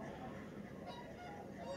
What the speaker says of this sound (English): looking way out, we've got some greylag